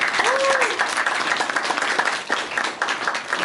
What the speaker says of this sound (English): We can give Team 4-Star a round of applause.